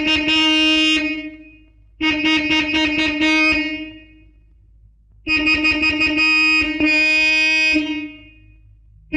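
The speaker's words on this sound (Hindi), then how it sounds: "कितनी देर से हॉर्न बजा रहा हूँ, आप सुनती नहीं?" A car horn honks insistently in two long bursts, each made of rapid repeated beeps. The horn is loud and close, with short silences between the bursts.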